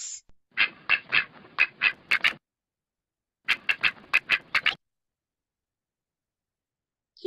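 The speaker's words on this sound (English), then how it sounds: "Cute little ducklings." Ducks quack in two quick bursts of rapid, loud, nasal squawks separated by silence, heard alone without talk.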